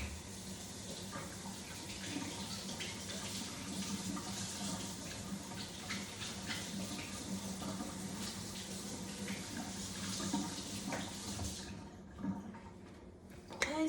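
Water from a kitchen sink faucet runs in a steady hiss and splash while a dishwasher part is rinsed under it, close and continuous, then shuts off near the end, leaving brief clatter.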